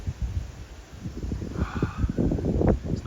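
Steady wind buffets the microphone with low rumbling gusts at a fishing spot, and a rustling hiss swells toward the end; no one speaks.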